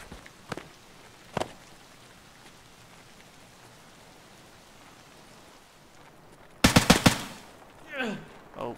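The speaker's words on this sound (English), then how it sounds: "did you hear him shoot?" Suppressed gunshots in Escape from Tarkov: two isolated sharp shots early on, then a rapid burst of several loud cracks near the end amid faint ambient noise and footsteps.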